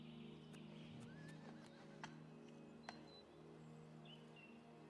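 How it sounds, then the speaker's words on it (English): A horse whinnies faintly in an Oblivion game world over a low steady hum, with a few light clicks and faint hoof clops. "I legitimately heard, like, a horse whinny"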